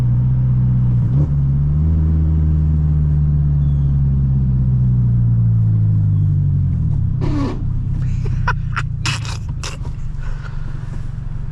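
A 2021 Toyota Corolla SE manual hatchback drones loudly while driving, its low engine rumble steady for several seconds before scraping, rattly bursts of road and cabin noise break in near the end.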